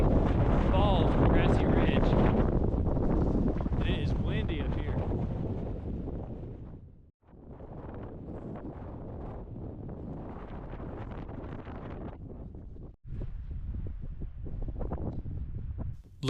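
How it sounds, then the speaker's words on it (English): Gusty wind buffets the microphone on an open, grassy Appalachian mountain bald, loud roaring bursts that fade and return in waves, with a brief lull and a sharp drop near the end. "And it is windy up here."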